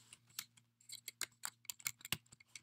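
Typing on a computer keyboard while programming a robot arm, a quick irregular run of soft key clicks close by over a faint steady electrical hum.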